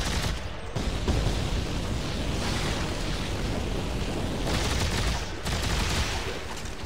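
Sustained gunfire and explosions fill a Dead Space 3 firefight, a dense, loud barrage of shots with brief dips, continuous throughout and without talk.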